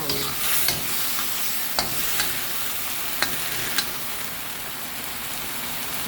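Mushrooms and chilli fry in a pan with a steady, close sizzle, broken by a few sharp clicks as they are stirred. No one speaks.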